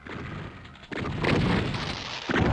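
Gunfire in the video game Doom, with a sudden heavy blast followed by sustained loud, rumbling shooting and a second sharp burst near the end.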